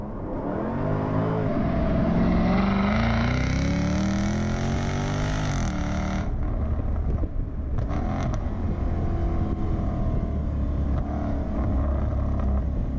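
A 2017 Jaguar F-Type SVR convertible's engine and exhaust rise in pitch through a hard rev, then drop into a lower, rumbling drone with crackles, close and loud, no voices.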